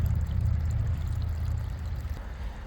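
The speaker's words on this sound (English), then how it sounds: "And here's where the water comes out." Water from a pond pump outlet spills in a steady, continuous rushing splash, close and fairly loud, with no voices over it.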